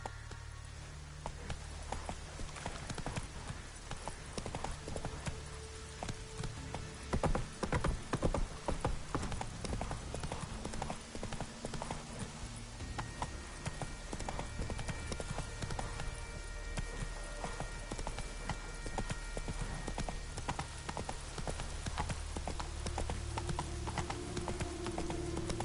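Hoofbeats of the horse Roach in the video game The Witcher 3, a steady rhythmic galloping clip-clop that carries on loud and alone throughout.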